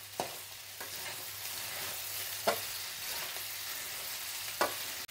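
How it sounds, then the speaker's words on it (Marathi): Masala rice made from leftover cooked rice is stirred in a pan, a soft continuous frying hiss broken by a few separate scraping strokes, close and fairly quiet with no talking. "असं मस्त हलवत राहायचं।"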